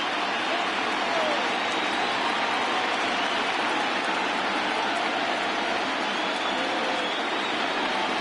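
A baseball crowd at a Pirates vs Cubs NLCS Game 4 rises for a full count. The steady, dense roar of cheering holds evenly throughout with no break.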